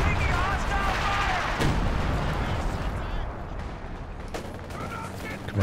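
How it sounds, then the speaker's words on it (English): An artillery barrage in the Company of Heroes 2 video game, with repeated heavy booms and rumbling blasts under continuous commentary voice. "Major artillery coming down now, not hitting too much at the moment."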